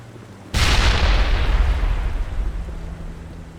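A grenade goes off in the Mass Effect video game, a single loud, close boom that bursts out sharply and then rumbles away over a few seconds, with no talk over it.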